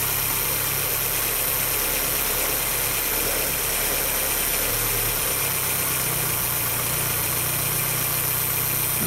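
A Volkswagen Rabbit engine with CIS fuel injection idles steadily when warm, a close, even, continuous mechanical hum with cooling fans cycling, heard alone without talk.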